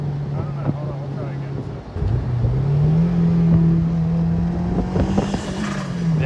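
A modded Honda S2000 revs up in second gear, its engine note rising steadily and then faltering as it cuts out, loud and close under intermittent talk.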